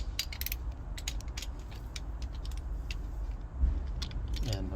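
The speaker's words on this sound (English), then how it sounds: "It's my torque wrench, and I need to set it at 29 foot-pounds." A torque wrench ratchets on a Toyota Previa cylinder head during head gasket installation, with a quick run of sharp clicks at the start and scattered mechanical clicks and a clunk later, fairly quiet.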